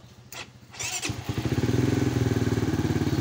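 A Rusi Flame 150X motorcycle engine cranks a couple of times, fires up, and settles into a loud, steady, rhythmic idle close by.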